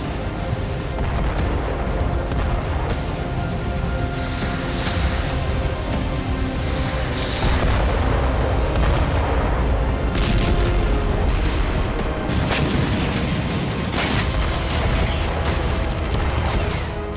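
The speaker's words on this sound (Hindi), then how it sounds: "रूसी डिफेंस के आसमानी जंगबाजों ने जमकर बमबारी की, आसमान से अग्नि प्रहार किया।" Heavy bombardment and missile strikes in the Russia-Ukraine war, heard as a continuous loud rumble of booms and blasts with repeated sharp impacts throughout.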